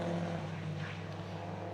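Mini Challenge race cars running tightly bunched at Oulton Park, with steady engine roar from several cars together, fairly distant and continuous for a brief moment.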